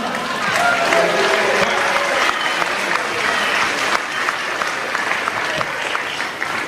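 A large audience at a university keynote talk cheering and applauding, steady loud clapping with whoops that fills the whole stretch without a break.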